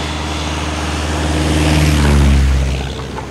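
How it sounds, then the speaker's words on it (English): A crop-dusting plane spraying pesticides over a plantation drones steadily, its engine roar swelling loud as it passes close overhead and then easing slightly. "spray these chemical products, not just on the ground, but also by plane, crop dusting, as this recent video shows"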